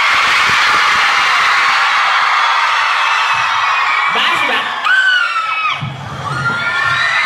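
A large, high-pitched crowd of fans at an O2L show in Denver screams and cheers loudly and continuously, with a few voices rising in sharper shrieks and a talker briefly heard near the end.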